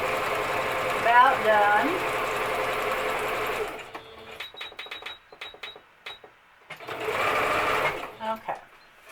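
A sewing machine stitches in a steady, close whirring run, stops for a few seconds of light clicks and handling noise, then starts stitching again in another short burst; a person speaks briefly.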